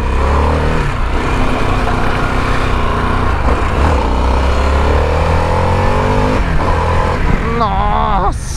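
A 2023 Harley-Davidson Sportster S 1250 motorcycle revs hard and accelerates, loud and close, engine pitch climbing through gear changes, with someone talking over it.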